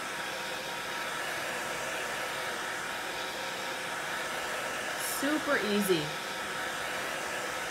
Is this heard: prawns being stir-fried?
no